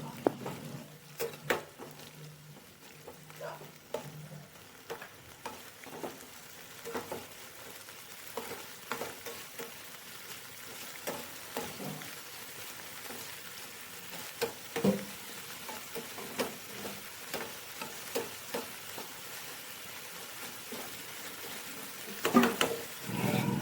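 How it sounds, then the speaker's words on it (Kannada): Onions frying in a pan for palak roti, a steady soft sizzle with occasional stirring clicks and scrapes, close and fairly quiet. "ಈರುಳ್ಳಿ ಚೆನ್ನಾಗಿ ಬೇಯಬೇಕು."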